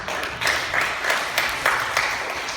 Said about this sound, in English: Can we clap and praise the Lord?